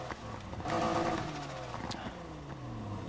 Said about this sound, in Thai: ได้ยินเสียงเทอร์โบด้วย